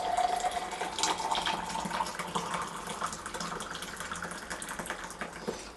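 Freshly boiled kettle water pours into a saucepan in a steady, splashing stream that runs close and fairly loud for several seconds, used for mixing bee feed.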